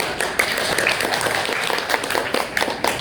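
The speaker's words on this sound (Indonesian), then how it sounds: "Oke, tepuk tangan buat." A small group applauds in a training session, with close, brisk clapping in a steady patter for the whole few seconds.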